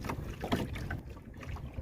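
A boat travels across open water on the way to check fish traps, with a steady wash of water and wind noise at moderate level and no voices.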